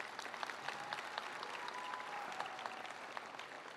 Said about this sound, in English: Let's give all our parents a big round of applause.